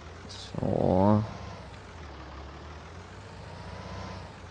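A farm vehicle's engine in Landwirtschafts-Simulator on the Ellerbach map cranks and catches with a short, loud rising roar, then settles into a low, steady idle hum.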